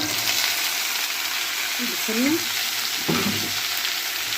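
Peas stir-fried with onion and garlic in a pan, a steady hiss of sizzling throughout with a couple of brief stirring scrapes partway through, close and fairly loud.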